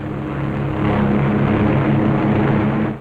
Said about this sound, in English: As the fighters and bombers swing victoriously away from Marcus Island